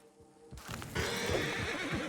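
An Appaloosa horse in Red Dead Redemption II lets out a loud, close whinny after a brief quiet start, with soft hoof clip-clops under it.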